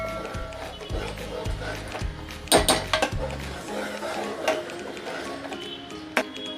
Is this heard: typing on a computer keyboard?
no